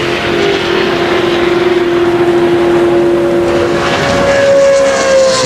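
Darrell Waltrip's NASCAR stock car running a slow qualifying lap at Talladega in 2000: a loud, steady engine drone at constant pitch that shifts upward late in the lap.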